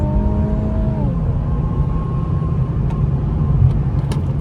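An Infiniti Q50 Red Sport in Sport Plus mode heard from inside the cabin, its engine tone rising and then dropping as it shifts during hard acceleration, with a continuous road and engine rumble underneath and a few faint clicks.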